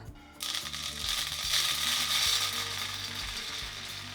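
Roasted sago pearls scraped from a hot pan onto a plate, giving a steady close rasp of grains and utensil scraping with faint clicks throughout.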